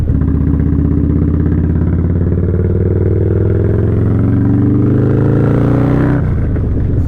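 A Harley motorcycle with a 590 race cam pulls hard under acceleration, its loud, close engine note rising steadily through the gear before the throttle snaps shut and the revs drop.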